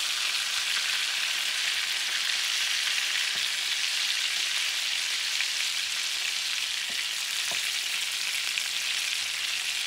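Meatballs frying in a pan give a steady, close, loud sizzle that runs unbroken from start to finish, with a few faint taps of a utensil and no talking.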